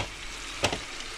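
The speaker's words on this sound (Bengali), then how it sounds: "এরপর চিকেনটাকে কষিয়ে নিয়ে আলুটা ছেড়ে দিলাম" Potatoes go into a pan of browned chicken, a steady frying hiss swelling into a short, louder sizzle burst partway through before settling back to a low crackle.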